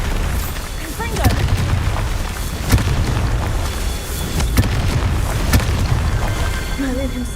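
A Confringo fire spell explodes in Hogwarts Legacy amid loud booming blasts and crackling bursts, several heavy impacts in a chaotic fight with voices shouting over the din.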